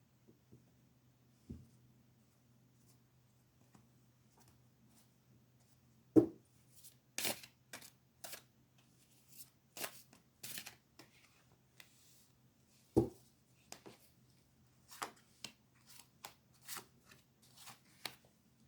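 Tarot cards being shuffled by hand in a quiet room: irregular bursts of crisp riffling and tapping over a faint low hum, with no one speaking.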